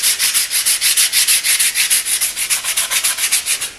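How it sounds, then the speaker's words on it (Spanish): Hand sanding fiberglass with coarse 36-grit sandpaper: rapid, steady back-and-forth rasping strokes, loud and close, with no voices. "comienzo con la lija 36 a quitar los excesos"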